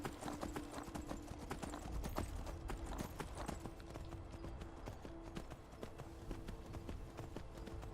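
Rapid, steady clip-clop of horse hooves galloping in the video game Skyrim, continuous and fairly quiet, with a faint hum underneath.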